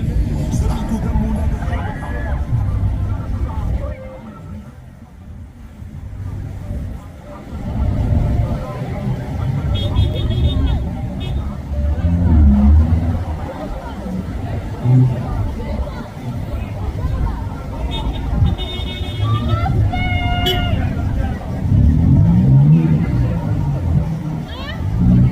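Cars drive through city streets in a steady rumble of traffic and engines, with a loud crowd's chatter and shouting running throughout. Brief higher horn-like tones break through now and then.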